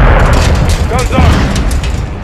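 A missile blast in Call of Duty: Modern Warfare II strikes an anti-air target, a loud, sustained booming rumble filling the clip alongside game radio voices.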